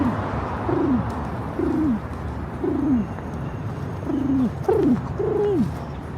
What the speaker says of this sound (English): Come on, these pigeons.